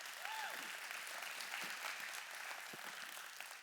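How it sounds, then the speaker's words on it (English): A community event audience claps in sustained applause, a dense, even patter of many hands that stays level throughout with a faint whistle early on. "So let's give him another round of applause."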